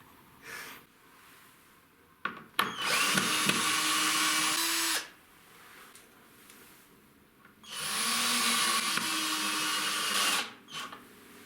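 Power drill driving yellow screws into wooden wall boards, two long loud whirring bursts of several seconds each with a pause between, plus brief handling knocks and clicks near the start and end.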